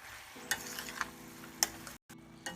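Minced mutton keema frying over a high flame in a pan, a steady low sizzle with a few sharp stirring clatters from the spoon, close by and without any talk, ending in a brief silence.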